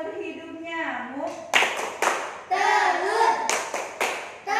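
Sharp hand claps land in a steady beat between the sung lines of a children's classroom clapping chant about the mosquito life cycle. A voice chants throughout, close and clear, with the claps punctuating each phrase.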